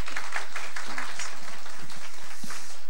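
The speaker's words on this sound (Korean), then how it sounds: "우리 감사의 박수로" A church youth congregation claps in thanks after a prayer, a moderate patter of hands with a few heavier thumps mixed in, fairly close and lasting a few seconds.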